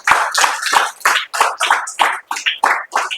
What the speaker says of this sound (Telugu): కొట్టండి ఒకసారి చప్పట్లు గట్టిగా.